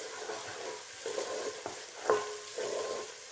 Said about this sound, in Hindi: मैंने लहसुन अदरक को थोड़ा भून लिया